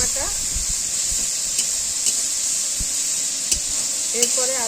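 Ginger paste and green chili paste frying in hot oil, giving a loud, constant hissing sizzle with a few soft clinks of a utensil and faint movement underneath.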